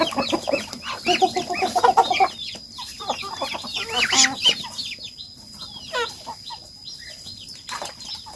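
Free-range village chickens cluck and chatter up close in short bursts while eating, with occasional wing flaps and pecking sounds, no talking.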